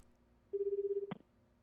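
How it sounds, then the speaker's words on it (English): A cell phone dialing a call gives one steady electronic tone lasting about half a second, ending in a brief click, quiet and alone with no talking. "Stanley stepped away from the others and took out his cell phone. He made a call to his superior, Gordon."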